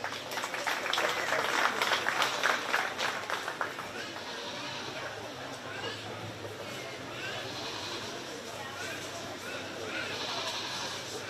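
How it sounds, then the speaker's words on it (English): Crowd applause for a young 4-H exhibitor at the Shelby County Fair 2024 sheep and goat show. Clapping is strongest in the first few seconds, then thins into a steady murmur of crowd noise and voices. "Let's give her a round of applause."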